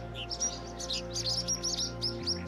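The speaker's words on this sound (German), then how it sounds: "Vogelnest." Small birds chirp at a nest in AER: Memories of Old, a rapid series of bright, high tweets over a steady low hum, close and clear with no one talking.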